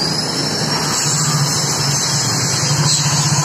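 A motorcycle engine idles steadily with the ignition on, its rear wheel not turning because of a suspected drive-belt fault, giving a continuous close, loud hum with a constant whine throughout and no talking.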